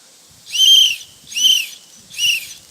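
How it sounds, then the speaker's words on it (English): Three loud, shrill whistle blasts as a survival rescue signal, at an even pace, each about half a second long with short gaps between, no voices. "3 loud whistles, then pause, and then 3 loud whistles"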